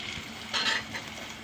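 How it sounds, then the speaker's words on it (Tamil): An egg frying in a pan partly covered by a lid gives a faint, steady sizzle with a brief brighter crackle in the middle, quiet and without voices. "அதனால் எப்போவுமே இந்த மாதிரி முட்டை பொரிக்கும் போது இந்த மாதிரி லைட்டாக மூடியே பொரியும்"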